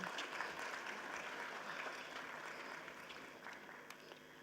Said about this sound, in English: So have a great round of applause for Spark Society.